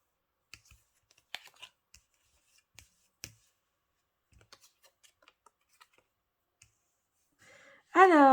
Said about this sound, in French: quand on retourne les cartes